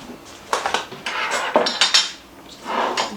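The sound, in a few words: portable stovetop being set down on the counter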